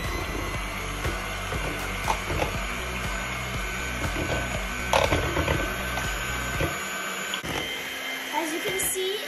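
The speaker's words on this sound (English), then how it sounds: "In a big bowl, add in your heavy milk, and with a whisk or a mixer," An electric mixer whisks heavy cream into butter in a big bowl, a steady close whirring hum that drops away near the end, with light clinks of the beaters against the bowl.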